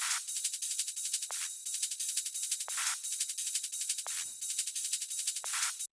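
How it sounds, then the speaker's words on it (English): A fast, bright drum and bass top loop of rapid hi-hat-like ticks in a steady repeating pattern, with a sharper accent hit every bar or so. "an added top loop, which sounds like this"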